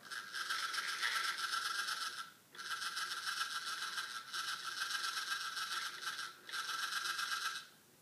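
A small mouse-controlled plotter runs its carriage motors in three sustained whirring, buzzing passes separated by brief pauses as the pen is released and the carriage moves back, close and fairly quiet.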